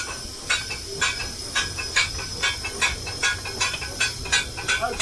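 Steam locomotive on a driving and firing experience with the regulator cracked open, giving rhythmic bursts of steam hiss and chuffs in a regular beat, loud and close.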